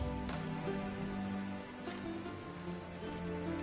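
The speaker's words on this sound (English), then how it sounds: "Raining" Rain falls steadily on surfaces in a continuous, even patter with scattered louder drops, over a faint low background hum.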